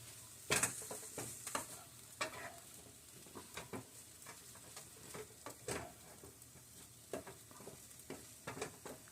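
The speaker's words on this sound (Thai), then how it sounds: "ผัดเลยค่ะ ผัดผัดคลุกคลุกนะคะ" Mushrooms stir-fried with egg, curry powder and a splash of almond milk give a faint, soft sizzle, broken by repeated light scrapes and taps of a spatula against the pan. No voices.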